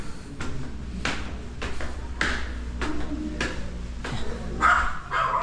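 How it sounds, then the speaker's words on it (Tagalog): A dog barks again and again in sharp, fairly close bursts, roughly one every second, over a steady low rumble near a parking area. "may aso."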